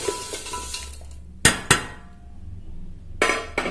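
Metal kitchen vessel clanks as 1.5 kg of jaggery is dropped in with ghee for ariselu syrup, a few sharp loud clangs and a scrape against quiet background.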